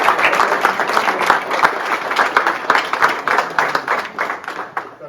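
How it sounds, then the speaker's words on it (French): Applause at a local football club's general assembly, a room of people clapping in a fairly sparse, uneven patter that thins out toward the end. "Je pense qu'on peut les applaudir"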